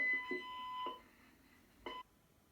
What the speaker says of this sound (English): they had a special alarm fitted that Teddy could operate in a real emergency